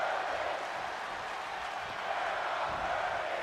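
A large wrestling arena crowd in WWE 2K25, set in Denver, keeps up a steady, broad roar with scattered clapping, moderately loud and unbroken, with no voices standing out.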